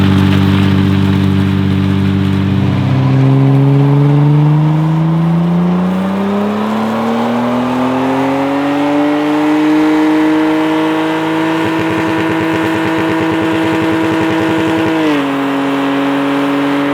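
A Lexus IS 300 parts car engine climbs from idle into a sustained high rev, holding a steady loud drone before dropping back briefly near the end, close up with no talking.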